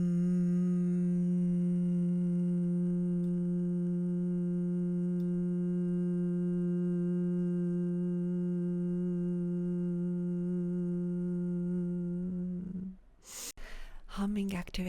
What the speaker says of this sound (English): we're breathing deep breath in, and we're humming out.